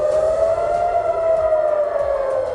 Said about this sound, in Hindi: गाजा से लगे इजराइल के इलाकों में चेतावनी के सायरन बजने लगे।